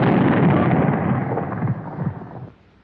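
A WWII anti-tank gun fires with a recoil reducer at work: a loud, deep booming blast that rolls on for over two seconds before cutting off abruptly, with no talk.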